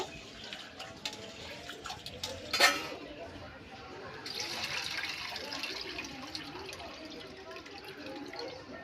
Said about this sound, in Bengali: দুই থেকে তিনবার আমি ডালটাকে ভালো করে ধুয়ে নেব।